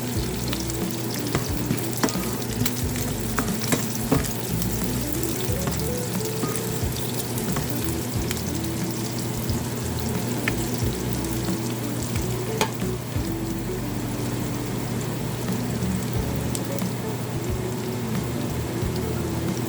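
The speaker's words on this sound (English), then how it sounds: "So now I'll add some garlic, 3 big cloves of garlic. Look at that, huge. 1 red pepper, let this fry." Shrimp with garlic and a red pepper fry in a pan with a dense, steady crackling sizzle full of tiny pops, continuous and close throughout.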